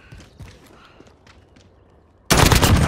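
In a bot-shooting first-person shooter, soft footsteps and light gear rustle come first, then a sudden loud burst of rapid automatic gunfire erupts and keeps going to the end.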